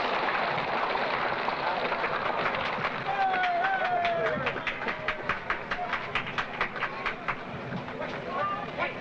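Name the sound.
Disneyland monorail train moving into place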